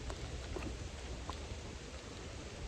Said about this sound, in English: Yeah, I got a little bit of rain coming down.